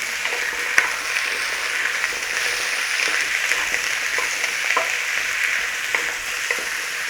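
Potatoes frying in a pan for Japanese curry give a steady, dense sizzle and crackle that holds evenly throughout, close and fairly loud, with a few small pops and clicks scattered through it.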